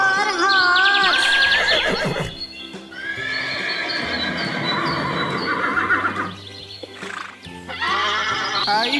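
A horse neighs loudly several times, a long whinny at the start, another through the middle and one more at the end, with a low background tone. Nobody speaks.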